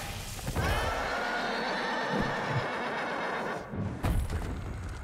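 Horse-dragon creature neighing in the video game Devil May Cry 5, a loud whinny amid a roaring, rumbling game soundscape with brief sharp impacts.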